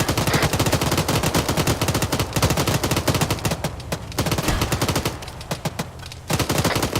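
Sustained automatic gunfire in a video game battle with a BMP, rapid dense bursts of shots, loud and close, with a brief lull near the end before firing resumes.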